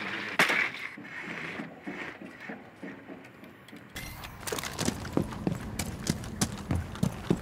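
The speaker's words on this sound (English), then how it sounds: "I heard footsteps somewhere." Footsteps in Rainbow Six Siege on the Oregon map thud in a quick, uneven rhythm, faint at first and then heavier and closer in the second half.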